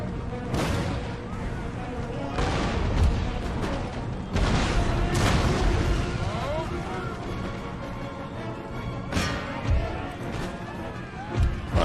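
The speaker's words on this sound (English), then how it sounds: "I should probably shoot the elephants with the cannons" Cannons and artillery firing in the Empire: Total War strategy game, with repeated heavy booms at irregular intervals over a rumbling battle backdrop, some shots loud and close, others more distant.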